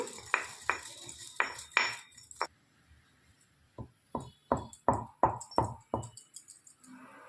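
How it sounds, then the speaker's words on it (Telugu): Raw mango pieces pounded in a stone mortar, a series of sharp hard knocks: a quick cluster of about six strikes, a pause, then another rapid run of roughly eight, close and fairly loud. "రోట్లో వేసుకొని దంచుకోవాలి పొడి చేసుకోవాలి ఈ విధంగా మొత్తం మంచిగా పొడి చేసుకోవాలి"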